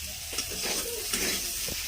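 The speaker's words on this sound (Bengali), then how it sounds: "আমার ডিমের জন্য আলু ভাজা হচ্ছে" Potatoes frying in oil for an egg curry make a close, continuous sizzle, with light stirring scrapes and small pops over a short stretch.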